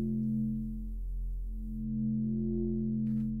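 A Serum synth wavetable tone in Ableton Live slowly sweeps from a pure sine into brighter harmonics, a steady sustained low-mid drone with a faint noisy burst near the end.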